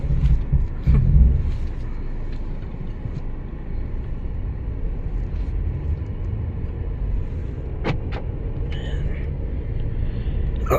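Busy road with many cars passing, a constant low rumbling wash of traffic with a few brief louder passes, heard from inside a vehicle.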